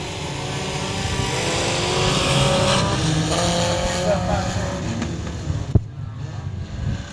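Factory stock race cars roar around the oval at Super Bee Speedway in Chatham during a night heat race, a loud continuous engine din with a brief sharp bang near the end, under the announcer's commentary.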